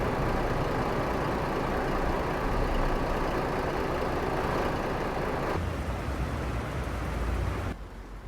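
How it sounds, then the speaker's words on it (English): A truck engine keeps idling after a delivery in the video game American Truck Simulator, a steady, fairly loud drone that changes tone partway through and drops sharply near the end. "Why does my truck sound like it's still on?"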